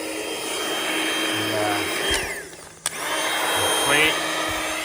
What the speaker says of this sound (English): pump this thing up